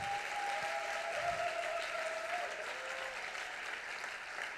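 A ceremony audience claps in a dense, even wash of applause that stays steady throughout, with a faint tonal sound drifting underneath and no talk.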